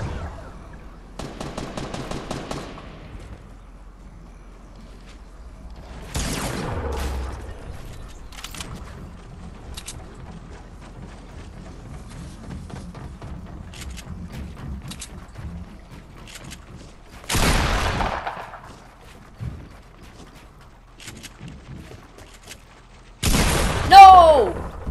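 Shotgun blasts in Fortnite Battle Royale: a few sharp, loud shots spaced several seconds apart, with a burst of rapid fire early on and a player talking between them.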